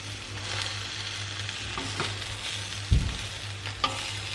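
Omelette eggs frying in a pan give a soft, steady sizzle under a low hum, broken by a couple of brief clinks or scrapes near the end.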